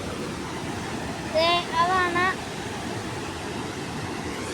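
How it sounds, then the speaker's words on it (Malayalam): A constant roar of water pours through a dam tunnel, broad and steady from start to finish, while someone speaks briefly over it near the middle. "ഇവിടെ വെള്ളം ഇടിക്കുന്നുണ്ട്."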